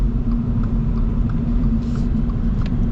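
A 2025 Subaru BRZ tS with track-tuned setup drives along, its engine and road noise forming a steady, loud low rumble from inside the car throughout.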